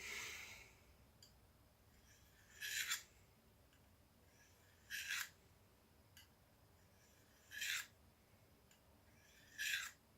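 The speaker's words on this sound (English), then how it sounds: "I'm going to sharpen this thing up, and then we're going to see how well it cuts after that" A knife is drawn through a knife sharpener in four separate short rasping strokes, evenly spaced about two seconds apart against a quiet background.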